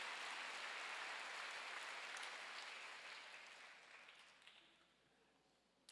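A church congregation breaks into sustained applause, a dense wash of clapping that gradually thins and fades over several seconds.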